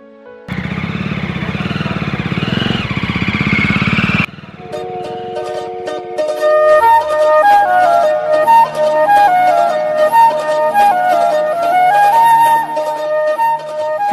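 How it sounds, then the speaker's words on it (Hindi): A new motorcycle's engine starts with a loud, steady idle for a few seconds, then gives way to music as the ride begins. "चलो घूम के आते हैं, न्यू बाइक लिया है कल।"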